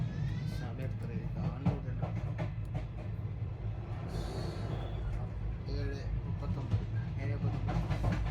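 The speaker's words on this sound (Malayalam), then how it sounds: "ഇപ്പം ട്രെയിനിലാണ്" The interior of a moving train on the way to Thiruvananthapuram gives a low, continuous rumble with faint rattling and clatter, and people talk over it.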